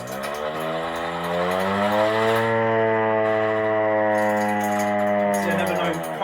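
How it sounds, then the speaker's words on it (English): A hand-cranked air raid siren at an RAF heritage centre being wound up, a loud sustained wail with stacked harmonic tones that rise in pitch as it spins faster, hold steady, then begin to sag. "We've obviously got our air raid siren. Do you want to give it a quick whiz, Harry?"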